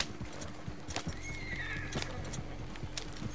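A horse in the Red Dead Redemption video game clip-clops at a steady gallop and lets out a whinny midway, with hoofbeats repeating rhythmically over a low game-world hum.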